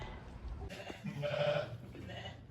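A sheep bleats once at moderate distance on a farm during hay hauling, a short wavering call over faint outdoor background.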